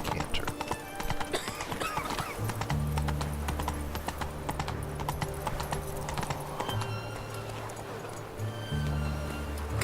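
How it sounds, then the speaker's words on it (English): Hooves clip-clop in a steady, rolling rhythm as a horse canters in the video game The Witcher on Xbox One, the drumming continuous and close over a sustained low game soundtrack. "So this is considered a canter."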